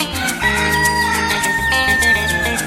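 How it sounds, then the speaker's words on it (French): A rooster crows loudly over a layered musical backdrop, its call rising and holding steady across the whole stretch. "Entendons le coq chanter et sonner l'alarme d'une aube nouvelle."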